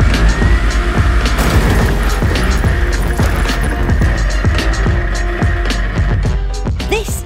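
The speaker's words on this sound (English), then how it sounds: "A monster truck that crushes and jumps cars." Swamp Thing, a huge 14-foot stunt monster truck that crushes and jumps cars, roars with a loud, steady engine rumble and repeated thumping impacts throughout, with clangs and a rising squeal near the end.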